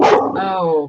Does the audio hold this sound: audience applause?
no